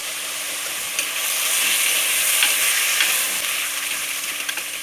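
Chicken pieces seasoned with turmeric and salt fry in a pan over onions, a loud, close, continuous sizzle and hiss swelling as the pieces go in, with faint stirring scrapes and no talking.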